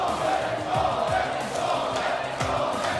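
A dense crowd of fans roars and cheers steadily at the Brawl Stars world final esports event, a continuous loud wash of noise with occasional sharper shouts rising out of it.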